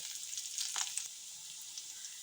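Leaves fry in hot oil with a soft, continuous hiss and sizzle, a brief crackle of stirring briefly rising, then settling back to a quiet steady fizz.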